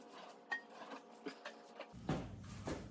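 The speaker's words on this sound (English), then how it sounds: "The older pans, if you get any older ones, let me grab one of my older ones and I'll show you." An old, thin, light cast iron pan is handled in a kitchen, giving a few scattered metallic clanks and knocks at moderate level, followed by a louder clatter near the end.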